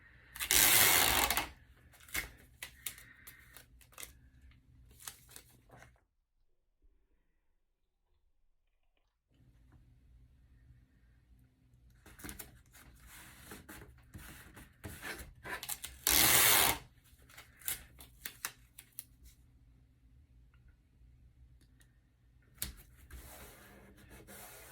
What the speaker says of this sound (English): So I've got tape here, just regular masking tape.